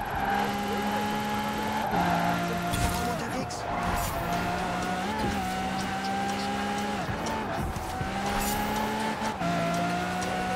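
Maserati MC12 Versione Corsa in the racing game Forza Horizon 4, a steady high engine drone that rises and drops with gear shifts, with occasional tyre noise and a voice talking over it.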